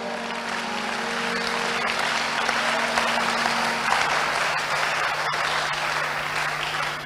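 A large church congregation applauds continuously for several seconds, a dense, steady wash of clapping with a faint tone humming beneath.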